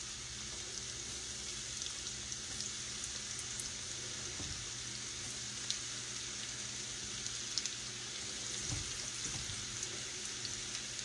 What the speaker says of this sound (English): You want it to be frying, but not so fast that the inside doesn't get done, okay?